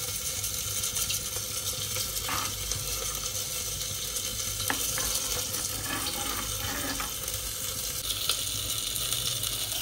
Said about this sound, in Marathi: 5-7 मिनटं मी ह्याला गॅस फास्ट ठेवून मी चालूच ठेवणार आहे, की जेणेकरून थोडंसं हे आटेल